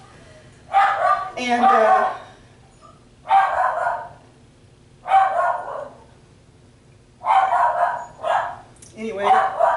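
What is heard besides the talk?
dog barking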